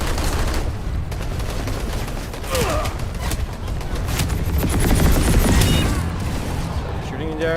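Video-game gunfire in a shooter match: rapid automatic bursts and booms layered over a busy mechanical background, fairly loud and continuous.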